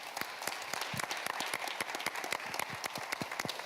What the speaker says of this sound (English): let's give everyone one more big round of applause